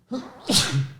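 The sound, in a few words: sneeze from an allergy attack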